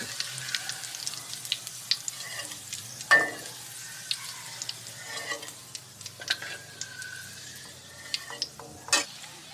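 Kaffir lime leaves and garlic frying in hot oil in a pan, a steady sizzle broken by occasional spoon clinks and stirring scrapes, close and fairly quiet.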